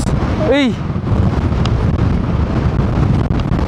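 Strong typhoon winds buffet a heavy Zontes 400G motorcycle, roaring as continuous loud gusting noise against the microphone, with a brief rising and falling tone near the start.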